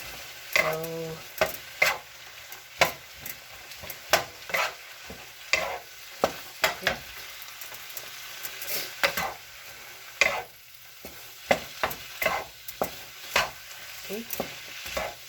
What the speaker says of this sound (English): fry the rice. Make sure that it's coated evenly with the oil, and coats the rice evenly